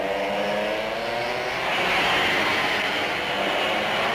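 A field of 24 racing karts roars off the start together at a race in Vevey, a dense buzzing engine drone that swells in loudness as the pack accelerates away, with no voices over it.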